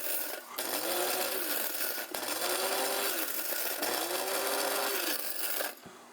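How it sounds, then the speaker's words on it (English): A Secura electric coffee and spice grinder pulses while grinding pepper, three loud, close bursts of buzzing motor whine with blade rattle, each about a second and a half, separated by brief pauses. "for the grinding, which is what we're going to be doing, you want to kind of do it in a pulsing mode."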